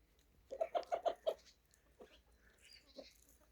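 Chickens and a rooster cluck nearby in a short burst of five rapid, fairly loud clucks, followed by a couple of softer isolated calls against a quiet background.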